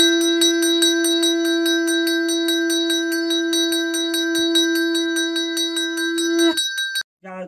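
A metal hand bell rung during a Hindu ritual gives a bright, sustained ringing tone with a rapid clapper rhythm that continues for about six and a half seconds, loud and close, then stops abruptly.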